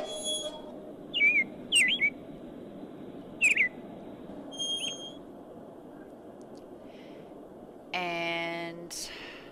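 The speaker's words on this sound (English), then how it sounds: "And let's feed the bird." A pet bird named Robin gives several short, bright chirps and whistles in bursts, fairly close, over a steady low room hum, with a longer buzzy tonal sound near the end.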